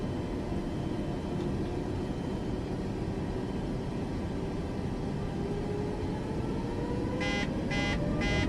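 Airliner engines spooling to full takeoff power in a flight simulator game, a steady loud broadband roar with a slowly rising whine, joined near the end by a few short repeated electronic chime tones.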